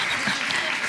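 Audience applause at a real estate awards ceremony, a dense, steady clapping from a crowd filling the whole short moment.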